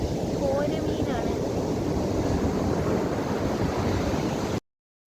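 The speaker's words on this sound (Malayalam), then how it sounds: "ഇപ്പം നല്ല ശക്തിയിൽ തിരമാല വരുന്നുണ്ട് കേട്ടോ" Powerful ocean surf breaks at Tirur beach, a steady, loud roar of crashing waves and wind that runs unbroken and then cuts off at the end.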